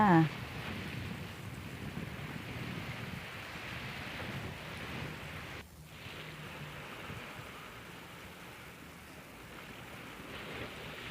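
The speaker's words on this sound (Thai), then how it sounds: "ฝั่งนี้ก็ฟังคลื่นทะเลจ้า" Steady broadband wash of sea waves and surf breaking on rocks, with wind rumbling across the microphone, continuous and fairly loud throughout, with no distinct breaks.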